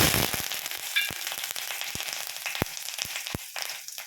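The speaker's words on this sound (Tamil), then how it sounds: "எண்ணெய் சூடேறிச்சுங்க, கடுகு போட்டுக்கலாம். பாருங்க, கருவேப்பிலை" Mustard seeds and curry leaves hit hot oil, giving a loud, steady sizzle broken by scattered sharp pops and crackles close by, with no voice present.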